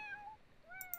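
Cats in The Sims 4 life simulation game give two soft, rising meows one after the other, faint and clean over a quiet background.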